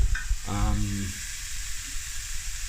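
Steady sizzling of food frying in olive oil in a pan, a constant crackling hiss, with a brief voiced sound near the start.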